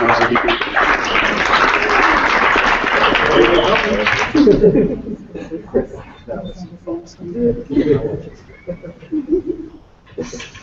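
An audience at a sexuality studies event breaks into a loud, steady round of applause that fills the first few seconds, then cuts off as a person begins talking.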